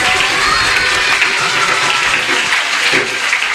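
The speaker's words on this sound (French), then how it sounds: "On applaudit les maîtresses." A school audience in Senegal applauds the teachers, producing loud, continuous clapping mixed with cheers and children's shouts that stays even from start to finish.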